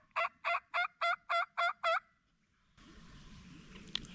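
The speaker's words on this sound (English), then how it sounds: "I don't know if you hear that gobble" A wild turkey gobbles in a quick string of seven loud, evenly spaced bursts during a turkey hunt, then falls silent, leaving faint outdoor background noise.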